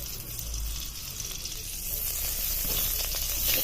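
Ghee sizzles and crackles steadily in a hot wok, a close, continuous frying hiss with no voices.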